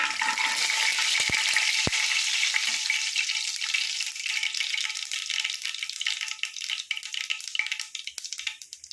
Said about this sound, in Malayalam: കണ്ടോ, കടുക് അങ്ങോട്ട് ഇടുമ്പോഴേ പൊട്ടും